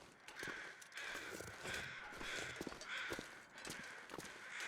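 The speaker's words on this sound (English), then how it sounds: "Okay, sounds like crows." Crows cawing repeatedly in the snowy wilderness of The Long Dark, harsh calls overlapping at moderate distance against a steady windy background hiss, with no one talking.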